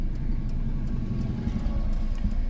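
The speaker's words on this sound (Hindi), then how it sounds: "अब क्लच को छोड़ो, धीरे धीरे क्लच छोड़ो।" A car's engine hums low and steady as a learner driver slowly releases the clutch, a muffled in-cabin drone with no talk.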